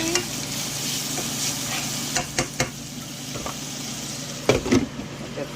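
Spaghetti simmering in a pot on the stove: a steady bubbling sizzle with a low hum, broken by several sharp clinks and scrapes of stirring utensils against the pot.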